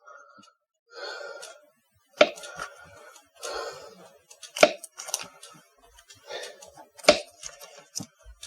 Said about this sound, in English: And we are going to cut it up into small pieces.